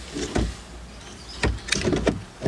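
Electric power window on a Mercedes ML320 running in short bursts, with several brief motor whirs and clunks close by, no talking.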